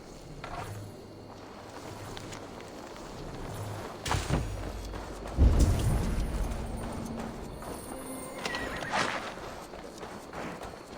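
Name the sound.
horse neighing and hooves, video game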